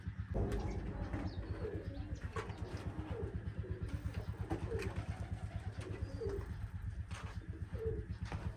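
Pigeons coo repeatedly in soft, rhythmic throaty calls, close by, over a steady low mechanical hum.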